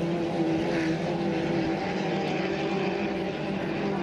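A 2.5-litre hydroplane racing boat accelerates hard, its engine a loud continuous roar that holds steady throughout, with no talking.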